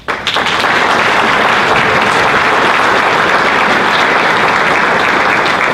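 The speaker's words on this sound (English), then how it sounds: "How about another round of applause?" A loud, sustained round of applause from an audience at a National Junior Honor Society induction ceremony, cheering the middle school honors band. Thick, continuous clapping from many people starts almost at once and holds steady throughout.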